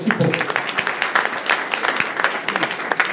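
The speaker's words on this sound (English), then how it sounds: "A big round of applause for Sipo." An audience claps at a book launch for The Choppee Journey, a dense continuous round of applause from a crowd, fairly close and steady, with some voices mixed in.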